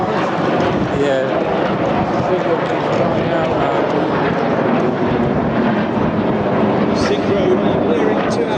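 Red Arrows display jets perform over the seafront at the Clacton-on-Sea air show in Essex, their roar loud and continuous throughout amid the crowd noise, with people talking nearby.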